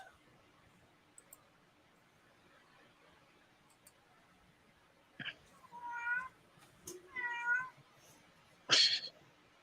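A house cat meows several times in short, separate calls, fairly close, against a quiet room background, with a faint voice briefly nearby.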